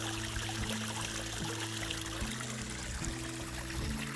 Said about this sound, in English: They seem to like the waterfall.